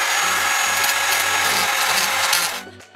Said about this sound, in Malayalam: ക്ലാമ്പുകളെല്ലാം വെൽഡ് ചെയ്ത ശേഷം ജസ്റ്റ് ഒന്ന് ഗ്രൈൻഡിങ് ചെയ്തെടുക്കണം.